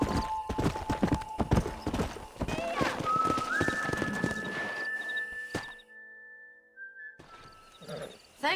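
Horses clip-clop at a brisk pace in the Western video game Red Dead Redemption, loud rhythmic hoofbeats that slow and fade, with a whistle-like tone and someone speaking over them.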